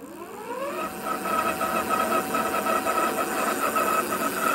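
Vakole Q20 Max dual-motor 1500W electric scooter accelerating, a whining motor tone rising steadily in pitch over several seconds, loud and close, with a buzzing mechanical hum beneath it.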